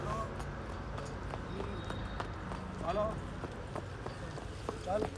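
Mare's hooves clip-clopping as she returns to the farm after a ride, soft irregular steps buried under talking and steady outdoor noise.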